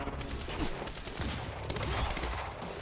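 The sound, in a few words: gunfire in the video game Quantum Break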